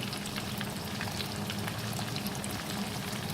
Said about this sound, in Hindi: अब हम इसको 4 से 5 मिनट भूनेंगे।